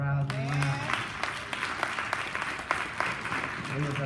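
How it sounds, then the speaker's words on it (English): A church congregation applauding visitors at a morning service, a steady patter of clapping running throughout, with a voice speaking at the start and end. "Come on, give our visitors a round of applause"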